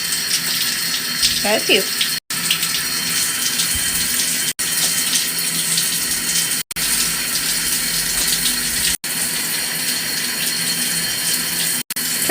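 A shower runs in a steady gushing stream while a pet bird bathes under the spray, and a person speaks briefly over the continuous water.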